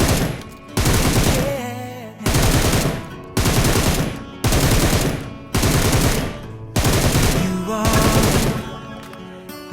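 Automatic gunfire from PUBG stand-and-fire practice comes in six loud, close bursts, each lasting about a second, separated by short pauses.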